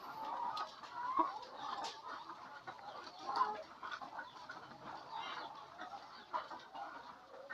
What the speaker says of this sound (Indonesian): ayam-ayam petelur,